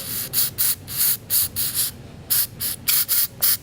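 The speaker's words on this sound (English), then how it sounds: "So I'm going to take my gun scrubber, I'm going to spray it in here." Gun scrubber aerosol cleaner sprays into a rifle's gas block in about ten short, sharp hissing bursts, close and loud, with brief gaps between them.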